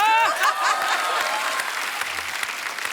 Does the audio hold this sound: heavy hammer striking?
no